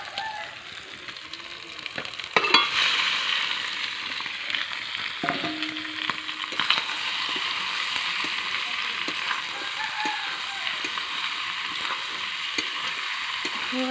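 Duck meat sizzles and fries with spices in a pan, a loud, steady crackle broken by a few clanks and scrapes of stirring.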